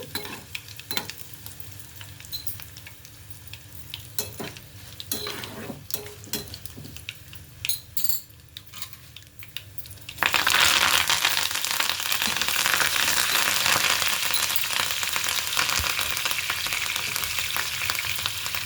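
Urad dal and dried red chillies frying in hot oil for a raw mango ginger pickle, soft scattered crackles and stirring scrapes at first, then a sudden loud, steady sizzle as the chillies hit the oil.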